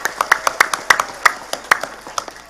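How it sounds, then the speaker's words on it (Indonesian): Scattered handclaps from a gathering of villagers in Kampung Bubutulan, Ciamis, at a religious talk: a dozen or so sharp, separate claps at an uneven pace, fairly close and light rather than a full roar. "Saya minta tepuk tangan dulu kangge warga Kampung Bubutulan."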